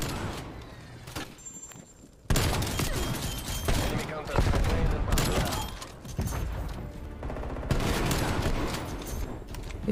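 Shotgun fire in Call of Duty Cold War during an objective game mode, with repeated loud blasts and game action clustered after the first couple of seconds over busy background sound.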